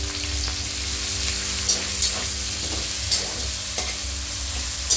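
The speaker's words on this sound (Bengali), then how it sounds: "পেঁয়াজটা ভালো করে ভেজে নেব" Chopped onions frying in oil with whole garam masala, cumin, chilli and bay leaf, a steady close sizzle with occasional scraping stirs and small pops, no talking.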